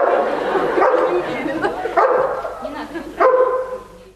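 A police service dog barks on command in a few sharp, loud bursts spaced a second or so apart, heard under someone speaking nearby.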